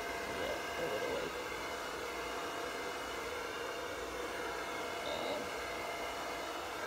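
An air blower hisses in a steady, broadband rush while blowing across an acrylic puddle pour painting, with a faint voice underneath.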